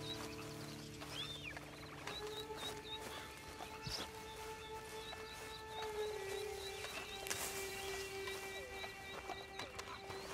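Steady clip-clop of horse hooves in the video game Red Dead Redemption 2, with an occasional whinny, set against a quiet outdoor ambience with faint birds.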